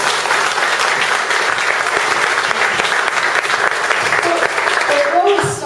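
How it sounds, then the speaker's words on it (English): Steady, dense applause from a tech event audience, loud and continuous, thinning slightly at the end. "let's first give him a big round of applause for being here"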